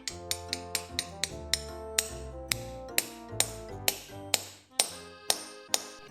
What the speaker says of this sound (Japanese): こうやって潰れたボルトがここにあるとして打ち込みますね。